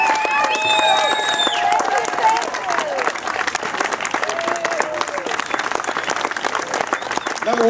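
A rally crowd of veterans and supporters claps and cheers, with steady, dense applause throughout. A few voices call out over the clapping.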